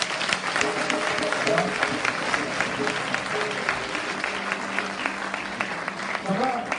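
Church congregation applauding and cheering in praise at a French-language religious service, steady dense clapping throughout with a swell near the end, voices mixed in the crowd noise.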